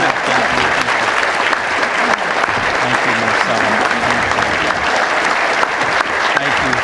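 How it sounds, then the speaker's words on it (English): A Lions Club gathering in Kerrville, Texas gives a standing round of applause for an international director, a loud, dense and steady roar of many clapping hands with faint voices mixed underneath. "I would like for you to please rise and give a round of applause for our speaker"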